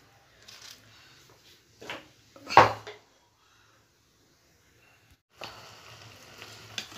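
Rohu fish curry gravy with green chilies cooking in a covered pan, heard as brief bursts of sizzling and metallic pan clatter separated by near silence, with one louder clank in the middle.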